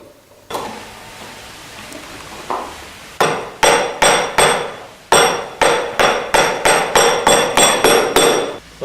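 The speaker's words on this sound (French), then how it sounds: "Ce travail s'effectue manuellement au ciseau et au maillet." Wheelwright cutting mortises into a wooden wheel hub by hand with a chisel and mallet: a few spaced knocks, then a rapid run of sharp, ringing blows close up, with no talk.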